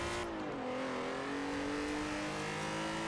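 A car engine in Forza Horizon 4 revs steadily at high pitch, the tone dipping briefly then holding a sustained, loud drone throughout.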